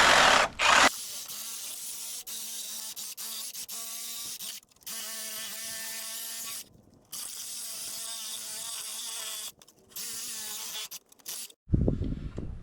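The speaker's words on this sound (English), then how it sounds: "take a Sawzall, come under here, and just start cutting." A Sawzall reciprocating saw fitted with a thin blade cuts through the nails holding a wooden pallet together. It gives loud, steady, high buzzing in long bursts, broken by short pauses and a final clatter, with no talking.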